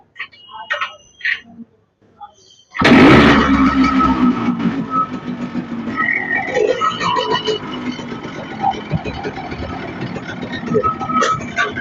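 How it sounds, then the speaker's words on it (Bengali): A used motorbike with a modified exhaust fitted like an Avenger's bursts into life after a few seconds of talk, then idles steadily and loudly close by with a continuous rumble. "গাড়ির সাউন্ডটা অনেক সুন্দর স্টার্টে"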